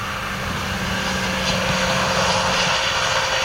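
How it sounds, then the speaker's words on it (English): Steady broadband roar of a jet airliner's engines on the runway at Luton Airport, a continuous loud rumble with a faint humming tone, no voices. "Nice quiet engines on that bad boy as well."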